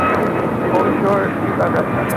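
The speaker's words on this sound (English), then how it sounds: "This is United 2377 taking off to Houston Intercontinental on a MAX 9." A United Boeing 737 MAX 9 jet airliner taking off at LAX, bound for Houston, produces a loud, steady engine roar close by, with radio chatter mixed in.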